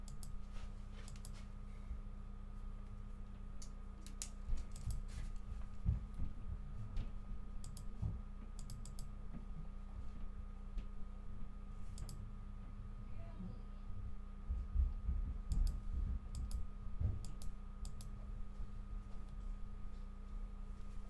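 Sparse computer mouse clicks during play of a video game, scattered single and paired clicks over a low steady hum, with quiet talk in the background.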